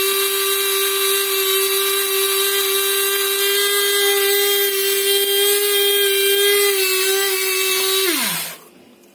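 An electric grinder grinds cumin seeds into powder, giving a loud, steady, high motor whine that runs unbroken for about eight seconds before it winds down and stops.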